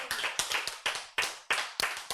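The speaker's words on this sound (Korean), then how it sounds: "박수." A small audience at a Korean church sermon breaks into bursts of hand clapping, several sharp uneven waves of applause close by, with no voices.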